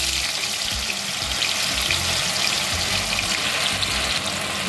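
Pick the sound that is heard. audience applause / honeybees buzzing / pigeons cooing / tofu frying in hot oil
tofu frying in hot oil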